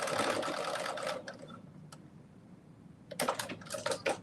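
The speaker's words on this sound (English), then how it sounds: "you could go to your sewing machine and go back and forth a couple of times." A home sewing machine stitches in quick rattling bursts, running, pausing, then running again as it goes back and forth over a seam, close and fairly quiet.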